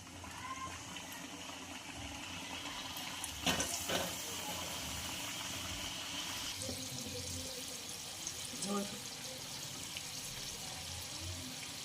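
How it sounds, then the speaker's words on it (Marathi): A second batch of samosas deep-frying in oil over medium heat gives a steady, soft bubbling hiss throughout, with a few brief clatters near the start and faint background murmur. "तर आता दुसरी बॅच आपण तळून घेणार आहोत"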